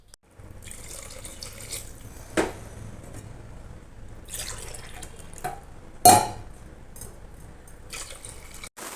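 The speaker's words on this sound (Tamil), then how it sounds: "பிரியாணி செய்கிறதுக்கு தேவையான தண்ணி வந்து ஆட் பண்ணேன்" Water running from a tap into a cooking pot while preparing chicken biryani, a steady splashing stream with a few louder gushes and clatters, close and without speech.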